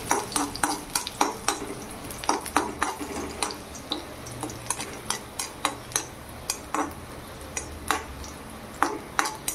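Garlic fries in hot oil for kurdai bhaji, a soft sizzle beneath sharp, rhythmic clinks and scrapes of a utensil against the pan, close and regular with no talk.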